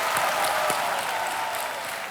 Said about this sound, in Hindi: एक बार फिर तालियों के साथ आपका अभिनंदन।